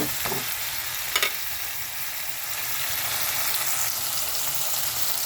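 Food frying in a pan while a Filipino monggo and tinapa dish is cooked at home, a constant close hiss of sizzling oil with a couple of sharp utensil knocks near the start, no voices.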